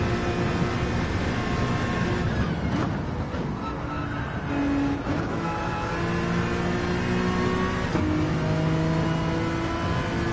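Race car engine in Gran Turismo 7 revving steadily and loudly, with rising and falling pitch through gear changes and other cars droning alongside.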